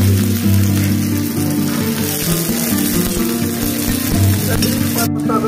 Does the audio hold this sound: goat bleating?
no